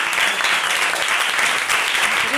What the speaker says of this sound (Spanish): Y ya incluso antes de hablar me aplaudís